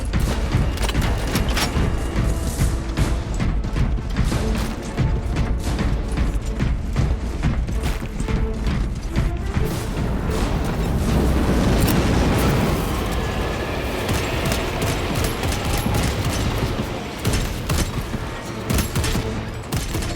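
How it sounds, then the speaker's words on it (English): Frag grenade blasts and heavy gunfire in the video game Warhammer 40k Space Marine 2, a loud, continuous barrage of rapid shots with deep booming explosions swelling midway, no speech. "Deploy frag grenades!"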